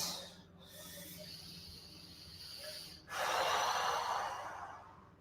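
Heavy, forceful breathing during a 30-minute full-body workout: steady panting gasps and snorts, then a louder, rushing exhale-like burst about halfway through that trails off.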